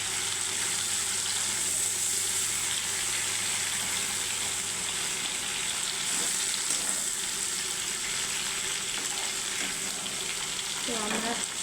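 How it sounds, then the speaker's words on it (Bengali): Prawns fry in a pan with a continuous, even sizzle that holds at one level throughout, up close. A faint scrape of a utensil comes through near the end. "তো আমার চিংড়িটা ফ্রাই হয়ে গেছে। চিংড়িটা নেমে নিই।"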